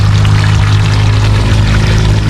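Water drains steadily through an overflow drainage outlet, a loud, unbroken rushing pour close up that holds the same level throughout, with no voices.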